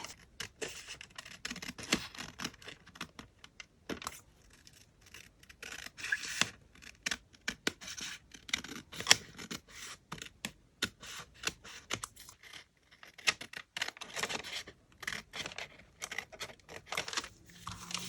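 Scissors snip and trim fabric on an upcycled paper envelope, quiet close-up cuts and rustles in an irregular patter with short pauses between strokes.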